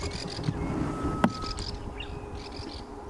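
A grey-headed bush-shrike calls from the bush on a safari sunrise drive, a few clear whistled notes standing out over a low vehicle rumble and faint rustling, moderately distant.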